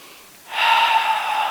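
A single audible breath during a yoga pose, a soft breathy exhale that swells in after a quiet moment and holds steady and close, with no talking.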